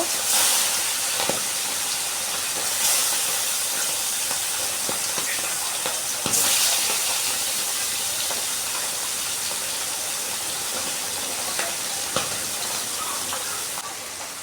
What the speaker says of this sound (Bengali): একইভাবে সবগুলো মাছ আমরা ভেজে নিব।